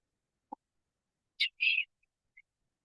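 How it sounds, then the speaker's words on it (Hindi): Sparse bird calls in a forest: a single low note, then a sharp high chirp and a longer warbling call, followed by two faint short peeps, each isolated against near silence. "पक्षियों का कलरव"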